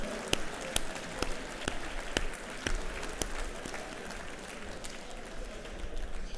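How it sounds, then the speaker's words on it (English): A press luncheon crowd at a MEAC football event applauds coach Willie Jeffries, with a steady wash of clapping, sharp individual claps standing out, and a room murmur beneath it throughout. "Give the legend a round of applause."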